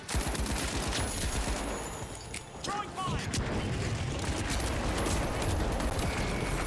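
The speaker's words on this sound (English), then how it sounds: "Too many people shooting at me." Heavy gunfire from many players in the video game The Finals, a dense, loud continuous fusillade of rapid shots and booms that barely lets up, with a brief dip partway through.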